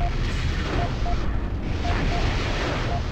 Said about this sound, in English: I am taking harassing fire